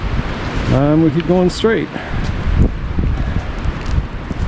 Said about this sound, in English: It is awfully windy.